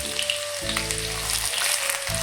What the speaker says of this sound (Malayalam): വെളിച്ചെണ്ണ നന്നായിട്ട് ചൂടായിട്ടുണ്ട്. ഇനി ഞാനിതിലേക്ക് സവാള ഇടുകയാണ്.